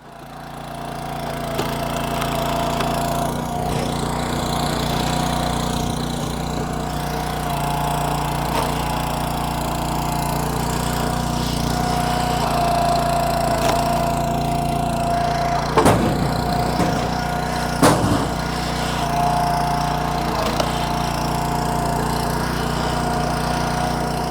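Gasoline engine of a Woodland Mills 2-way log splitter runs steadily while splitting firewood, a constant loud drone with a couple of brief knocks and clunks near the end and no talk.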